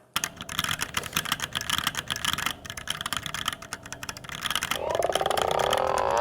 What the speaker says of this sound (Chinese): OK， 那我给大家打个字，听听这个价值3万块的声音啊。